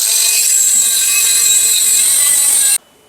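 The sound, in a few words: die grinder removing bearing and spacer on Nissan Titan axle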